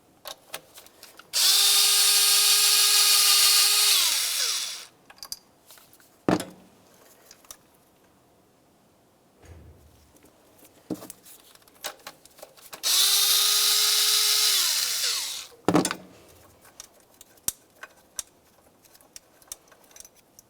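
Power drill or impact driver backing out two 10mm bolts from the intake bracket on a 1998-2002 Lincoln Navigator: two loud, steady whirring bursts of about three seconds each, separated by scattered clicks and clanks of tools.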